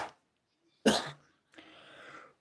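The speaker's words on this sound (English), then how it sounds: "It was a little sneeze." A small sneeze bursts out sharply, preceded by a faint breath and followed by a soft breathy trailing sound, close to the microphone, with no speech.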